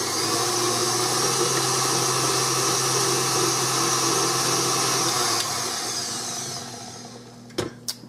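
A stand mixer with a paddle beats cake icing with a loud, steady motor whir. The whir spins down after about six seconds and ends in a couple of sharp clicks.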